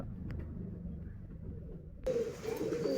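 Girebaaz pigeons cooing close by in soft, repeated low coos, then a sudden wash of broadband noise in the last second partly covers them.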